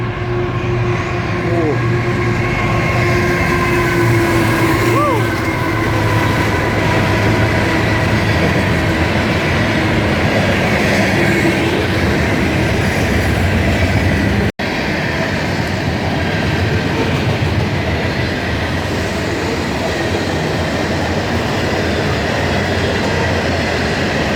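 A train rumbles loudly and steadily for a long stretch, with rail clatter and a brief squeal, as it pulls into a station at night in Ontario, Canada; faint talk in the background.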